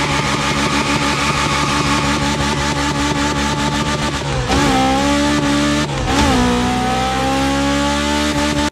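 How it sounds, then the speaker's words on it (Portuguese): A Honda S2000 engine in the video game The Crew Motorfest revs loudly through gears, rising in pitch, dipping briefly at shifts, then climbing again, with faint tire squeal; loud and close, no voices. "Agora se liga no som desse Honda S2000 aqui"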